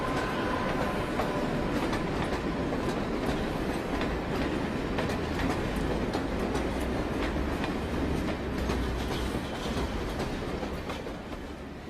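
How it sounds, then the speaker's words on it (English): A Class 87 electric locomotive hauls a mixed rake of Mark II and Mark IIB coaches, with a continuous rumble and rhythmic clickety-clack of wheels over rail joints, loud and steady throughout. "the very state-of-the-art locomotives were the brand new Class 87s with their 110 mile-an-hour capability"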